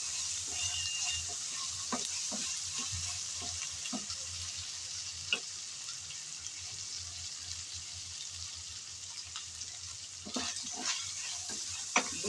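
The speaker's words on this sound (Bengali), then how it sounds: "আদা আর রসুন বাটা দিয়ে আবারও নেড়ে চেড়ে ভালোভাবে কষিয়ে নিতে হবে" Ginger-garlic paste stir-fried with onion and potato in a pan, a steady sizzle punctuated by repeated clicks and scrapes of a spatula, close and even.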